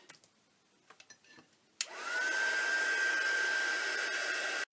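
A hair dryer switches on with a click and blows steadily, close and constant, drying Golden High Flow acrylic paint on a journal page, after a few faint handling taps.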